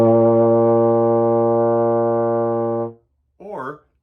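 A low, sustained wrong note on a baritone horn played with no valves pressed, held steadily for nearly three seconds with a buzzy, harmonic-rich tone, then a short burst of speech after it stops.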